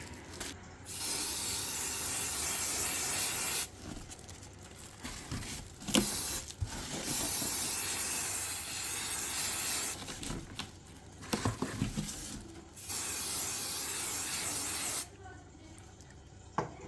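Varnish sprayed from an aerosol can onto an old plastic bucket turned planter inside a box, heard as close, loud hissing bursts separated by short pauses.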